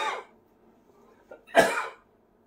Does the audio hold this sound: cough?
yes